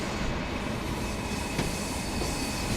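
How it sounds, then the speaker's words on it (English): A game train, another Pacer railcar, rolls across a rail junction split in Train Sim World 6 on the Blackpool branches, giving a steady wide rumble throughout with faint clicks and no voices. "there's a train, another pacer, using that split right now"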